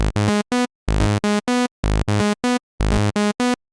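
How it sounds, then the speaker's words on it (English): A bright, buzzy synthesizer lead layered over three octaves plays a short rhythmic riff of staccato notes with rich harmonics, several stacked pitches sounding together, alone and fairly loud. "this is a sound that could be produced in any synthesizer"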